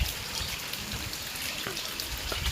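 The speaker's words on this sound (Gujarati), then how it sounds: "તમારો જો વરસાદ તમને બતાવી દઉં અહીંયાથી" Light drizzle patters steadily outdoors, a soft continuous hiss with scattered drips close by.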